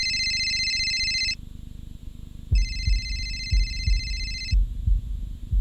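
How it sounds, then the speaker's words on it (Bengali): A telephone rings in a Bengali crime drama scene, giving two long bursts of bright electronic ringing separated by a quiet pause, over low thumping background music. "আমি সন্ধ্যাবেলা 4:55 বিজয়কে ফোন করি।"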